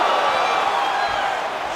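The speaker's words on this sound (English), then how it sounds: "they can take in the applause because they deserve it" Arena crowd in UFC 5 roaring and applauding as fighters get back to their feet, a steady broadband wash of cheering with no breaks, loud and continuous throughout.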